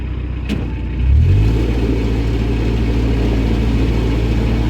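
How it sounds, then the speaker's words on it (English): A steady, low engine rumble from a large canal fuel boat that swells briefly as it nears, then settles into a constant drone with faint background noise. "Oh, a big fuel boat coming towards me."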